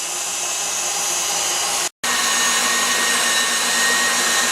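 An electric mixer whips cream for homemade butter, a steady loud whirring hum that cuts out briefly near the middle and then resumes at the same even drone, with no talking.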